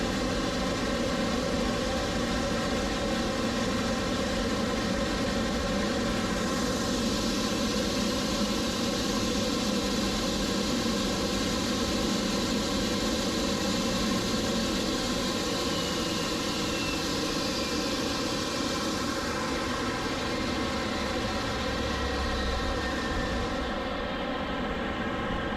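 Boeing 777-300ER engines run steadily at the stand after arrival. The roar and whine are loud, constant and continuous, with no voices.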